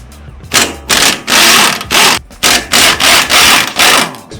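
Gear wrench ratcheting on the lower shock bolts of a Ford Maverick: loud, close bursts of rapid rasping clicks, about eight back-and-forth strokes in an uneven rhythm with short pauses between.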